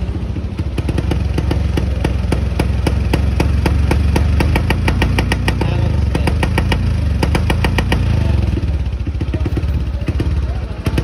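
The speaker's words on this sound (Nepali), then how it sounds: "श्यामा गयो बाइक" A motorcycle engine runs loud and close, its rapid pulsing thud holding steady for the whole stretch with a slight dip in the middle, no talk over it.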